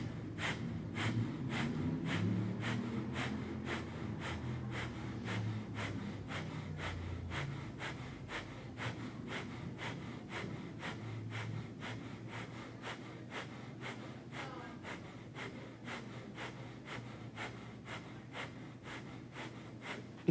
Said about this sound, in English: From here we're going to do 40 Kapalabhati breaths.